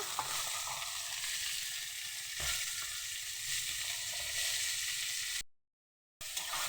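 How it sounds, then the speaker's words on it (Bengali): Cauliflower with radish, potato and aubergine frying in a pan, a steady close sizzle with occasional stirring scrapes, continuous and loud, broken once by a short silent gap near the end. "সবজিগুলোকে একটু ভালোভাবে ভেজে নেব।"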